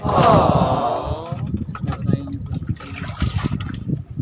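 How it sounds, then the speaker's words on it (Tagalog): Water poured into a container for drinking at a riverside fishing spot with a net trap, a brief splashing gush at the start followed by quieter handling sounds and voices. "Lagyan muna natin yung tubig ni Ami."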